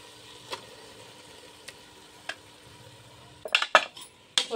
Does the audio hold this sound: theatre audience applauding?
no